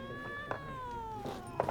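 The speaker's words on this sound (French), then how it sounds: "C'est nouveau le chat." A cat in The Witcher 3 lets out a drawn-out, falling meow, close and clear over a low game ambience with a few soft taps.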